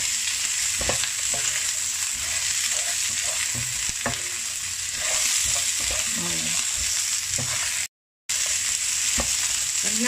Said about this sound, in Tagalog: Haluin lang ulit.